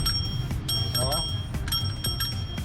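A bell on a Japan surplus bicycle for sale rings briefly, a short trill near the middle, amid ongoing talk and background noise from a shop setting.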